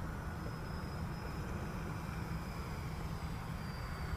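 Dynam Grand Cruiser RC model plane making a low pass, a steady broadband whine and motor drone with a faint high tone, constant and fairly close throughout with no talk.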